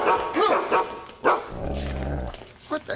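A half-wolf dog barks loudly and close in several sharp bursts, with a low growl rumbling between the barks and a final short yip, and no one talking over it.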